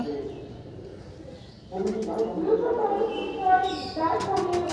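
A female pigeon from a Fulchhora loft coos softly in a low, rounded murmur, with other birds and loft noise around it and a person speaking over part of it.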